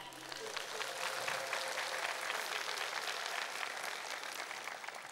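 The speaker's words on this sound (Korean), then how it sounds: "저희가 호명할 때마다 큰 박수 부탁드립니다." Steady audience applause fills the hall as judges are introduced at an organic-themed song festival in Goesan, a dense continuous clapping with a faint voice underneath.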